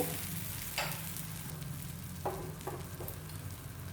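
Rava uttapam batter spreads on a hot tawa over a medium flame, giving a steady soft sizzle with a few brief scraping clicks from the ladle.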